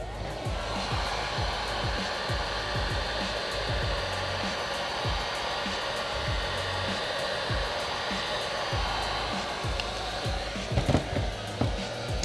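A heat gun blows a steady, loud airy roar while post-heating a vinyl wrap, running continuously up close with faint handling knocks underneath and no talk.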